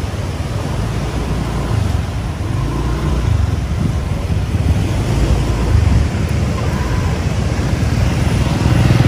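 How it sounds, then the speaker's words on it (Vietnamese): Night waves lapping on Ba Lang beach in Nha Trang: a steady, loud rumbling wash of surf with wind buffeting the microphone, continuous and unbroken, with no talking. "Nghe tiếng sóng vỗ rì rào."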